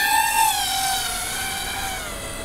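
A DJI FPV drone fitted with a SmallRig aerodynamics kit flies past with a loud, steady, high-pitched motor whine whose pitch sags slightly as it goes, and nothing else is heard.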